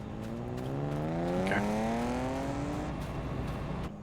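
A boy racer's car engine revs and climbs in pitch, a rising whine passing by at moderate distance near a farm, then drops off at the end.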